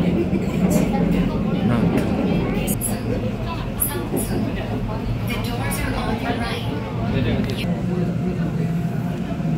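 A Seoul subway Line 2 train runs on its rails, giving a loud, continuous rumble with scattered high metallic squeals and clicks, close by, while someone talks over it.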